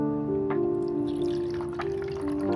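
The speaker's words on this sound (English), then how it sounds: "Use a measuring cup to add water." Water pours from a measuring cup into a humidifier tank, a steady close trickle with a rising filling tone that runs for a couple of seconds, alone with no talk.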